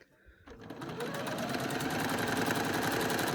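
A sewing machine stitches a sleeve lining seam, starting after a brief pause and running steadily with a fast, even rhythm at close range, loud and continuous with no talking.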